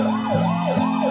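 A toy ambulance siren wails loud and close in a smooth rising and falling electronic tone, steady and alone.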